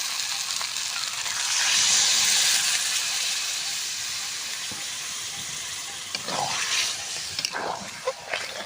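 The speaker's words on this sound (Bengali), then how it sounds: "আমি জল দিয়ে দেবো" Water poured into a cooking curry of young jackfruit and egg, a broad hissing rush that swells and then eases into a softer sizzle, with a few light clatters toward the end.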